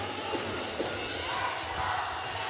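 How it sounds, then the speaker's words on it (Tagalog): Volleyball crowd at an indoor women's league match, a steady wash of cheering and chatter that stays loud and dense for the whole moment, with a few thuds underneath. "The crowd really loving this."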